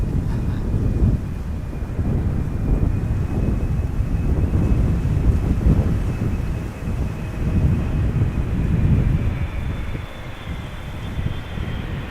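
A KLM wide-body airliner landing at Amsterdam Schiphol Airport in gusty crosswinds, a loud sustained roar of jet engines with wind buffeting the microphone, steady and close for the whole stretch with no talk.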